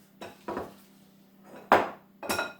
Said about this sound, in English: Scrape out your bowl.